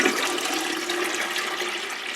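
Water pours steadily and continuously into a brew pot while preparing to homebrew an oatmeal stout, a close, full rushing sound with no pauses.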